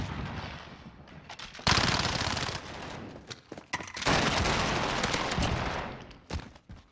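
Gunfire in a team video game shooter match: loud sustained bursts of rapid automatic fire with short pauses between them, followed by a few scattered single shots, with no talk.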